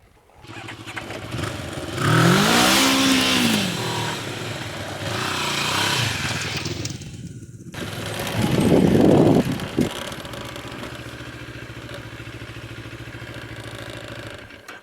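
A motorcycle engine revs through a 180-degree power U-turn from a stop, rising sharply twice in loud, close bursts with a brief drop in between, then settling to a steady idle.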